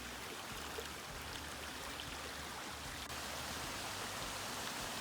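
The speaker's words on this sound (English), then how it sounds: "Can you hear that? Yeah, it's another sound. It's water." Water of a woodland waterfall heard as a steady, even rushing hiss, moderately distant and unbroken throughout, with no talking.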